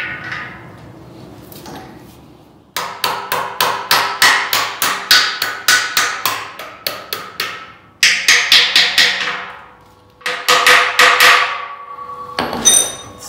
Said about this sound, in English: So I'm just going to put this bolt in here so I can hit it with a hammer.